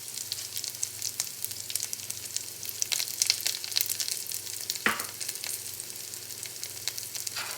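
About four chopped garlic cloves sizzling in a frying pan, a constant bright crackle and hiss with a few louder pops and one stirring scrape midway, no voices.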